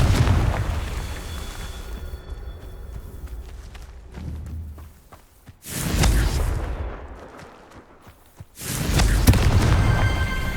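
Confringo fire spells bursting in Hogwarts Legacy, three heavy booming blasts a few seconds apart, each swelling loud and then trailing off into rumbling battle ambience.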